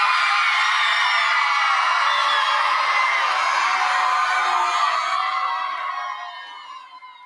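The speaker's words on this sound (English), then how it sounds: "I want to hear you all for about 10 seconds, as loud as this building can get." A packed school gym crowd at a Friday night football event whoops, cheers and shouts at full volume, a dense sustained roar of many voices that fades out toward the end.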